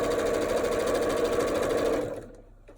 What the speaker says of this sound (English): So let's sew that side on.